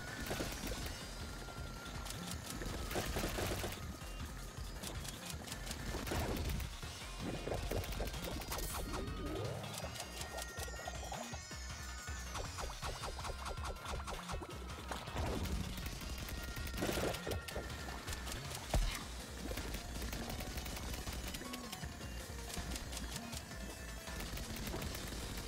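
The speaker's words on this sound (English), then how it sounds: "Can I shoot the little blobs on the ground with the SMG? I can." An SMG in the pixel-art game Kunai fires repeatedly at small blobs on the ground, rapid tinny bursts and splattery hits repeating over a long stretch against steady game background sound.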